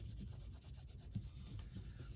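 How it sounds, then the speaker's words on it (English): Crayola Wonder markers coloring on special mess-free paper, a soft, continuous rubbing and scratching of marker tips, quiet and close with a steady back-and-forth rhythm. "Wow, I've never seen markers color like this before."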